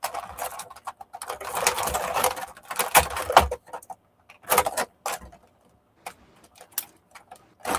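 Irregular crisp clicks and snips as nail clippers cut plastic straps, some in quick clusters and others isolated, with rustling in between and short pauses.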